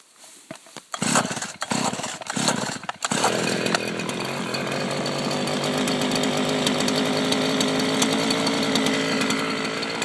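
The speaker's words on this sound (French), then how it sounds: "Une bonne petite débroussailleuse." A gas-powered brush cutter is pulled into life with a few rough starting bursts, then settles into a loud, steady high-pitched engine whine held close by for the rest of the time, with no talking.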